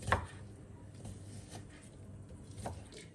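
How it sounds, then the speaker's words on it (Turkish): A few soft knife taps on a cutting board while chopping chicken breast, sparse and irregular, with low background hum. "Tavuk göğsü. Göğüslerimi şöyle doğruyorum."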